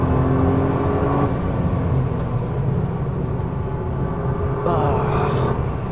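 A Nissan GT-R Nismo drives on a race track, its engine a steady loud rumble and whir from inside the cabin, with a brief rising rev toward the end.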